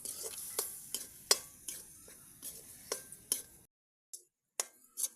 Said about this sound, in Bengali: একটু জিরা, একটু হলুদ, একটু লবণ দিয়ে নাড়বো।